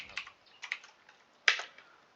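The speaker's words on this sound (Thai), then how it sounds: "เริ่มต้นนะครับให้พิมพ์คำสั่ง try นะครับ" Several crisp, close keystrokes tap out on a computer keyboard while Python code is typed, coming as small irregular clusters with one sharper hit near the middle.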